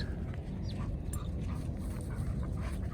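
Dogs whimpering and yipping faintly over steady low rumbling background noise, with brief high whines scattered throughout.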